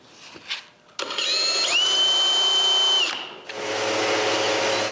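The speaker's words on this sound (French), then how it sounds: "Je perce un trou de détecteur de mouvement." A power drill bores a hole for a motion sensor in a workshop: a short rising whir spins up into a steady high-pitched drilling whine for about a second and a half, followed by a broader, rougher motor noise.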